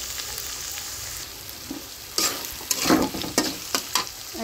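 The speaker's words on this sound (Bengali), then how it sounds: "শুটকিটার সাথে সামান্য পরিমাণে একটু ভাজবো।" Dried fish (shutki) with onion fries in a pan, a steady soft sizzle broken by several louder stirring scrapes toward the end, close up and without talking.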